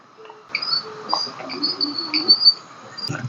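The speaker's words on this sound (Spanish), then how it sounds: "Esos pitidos que se escuchan por ahí posiblemente sean unas ranas" Small frogs give thin, high-pitched peeps in a Dominican Republic forest, several short chirps scattered irregularly at moderate distance over quiet ambient background.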